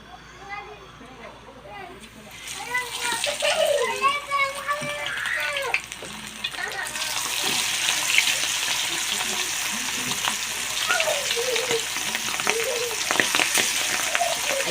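Milkfish in hot oil in a pan, a steady crackling fry that swells louder once the fish goes in and keeps sizzling close by, under a voice talking and a voice.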